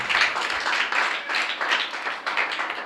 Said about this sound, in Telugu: చప్పట్లు కొట్టిన అందరూ ఒకసారి.